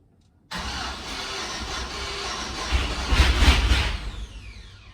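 An LS V8 engine from an engine swap cranks and catches abruptly, then runs loud and rough on only three cylinders. Its uneven roar swells near the middle of the run and eases off toward the end, close up with no talking.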